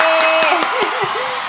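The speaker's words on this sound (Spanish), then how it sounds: "¡aplausos!" A short, dense burst of loud applause with bright whistle-like tones riding over the clapping, lasting about a second and a half.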